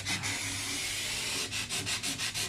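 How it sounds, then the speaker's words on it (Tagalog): A granite kitchen countertop is sanded to remove residue, giving a loud, steady abrasive rasp that pulses in short strokes toward the end, with no voices. "So lihaan na siya para matanggal tong mga taya."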